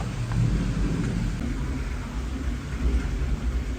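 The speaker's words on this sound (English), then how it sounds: "It's raining, but there's sun at the same time." Rain falling outdoors during a sunshower, a steady broad hiss with low rumbling undertones, moderately loud and continuous with no talking.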